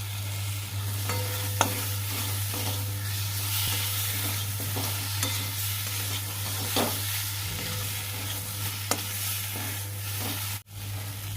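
Whole spices and pointed gourd fry in a wok with steady, close stirring, a continuous low sizzle punctuated by scraping strokes of a spatula, with no voices.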